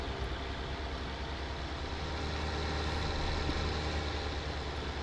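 A T8 tractor idles in the Farming Simulator 19 video game, giving a steady, low, continuous diesel engine rumble at even volume throughout.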